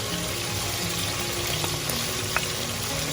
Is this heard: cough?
no